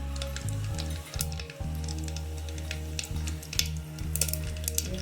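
Mustard seeds crackle and sizzle in hot oil for a village-style raw mango dal, with dense popping and spitting over a steady low hum, sharp bursts clustering toward the end.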